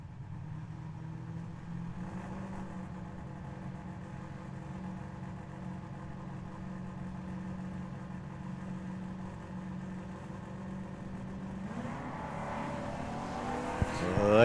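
Drag racing cars, a Corvette and a Mustang at Tucson Dragway, run a steady mid-pitched engine drone that swells into louder revving near the end, heard from trackside.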